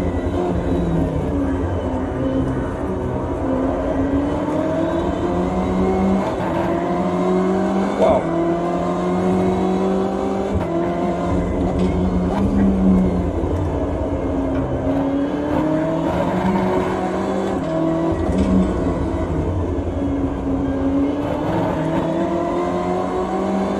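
A BMW M8 GTE race car accelerates around the Nordschleife in a racing video game. The loud, continuous engine roar climbs in repeated rising sweeps as it pulls through the gears, with a faint voice underneath.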